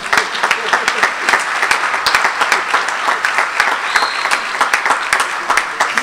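A congregation at a religious talk claps steadily, a loud, close, continuous burst of applause that lasts the whole clip with no words spoken over it.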